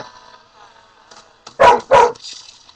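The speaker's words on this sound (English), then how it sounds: "My puppy dog's deciding to bark at something." A puppy barks twice in close succession, loud and near, over quiet background sound.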